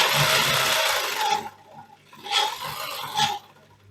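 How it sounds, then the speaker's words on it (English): A Brother LZ2-854-3 sewing machine runs a medium zigzag stitch in a steady whirring burst that halts, then gives two brief follow-up bursts, close and fairly loud, with no voices. "So this is a medium-sized zigzag stitch."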